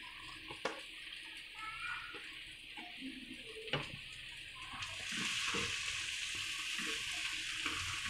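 Cabbage and mixed vegetables stir frying in a pan, a steady sizzling hiss with scattered clicks and scrapes of stirring, growing a little louder partway through.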